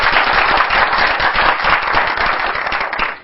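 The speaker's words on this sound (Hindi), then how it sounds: "तालियां बजाइए।" Audience applause at a motivational talk: dense, steady clapping from many hands fills the whole stretch at an even, loud level without letting up.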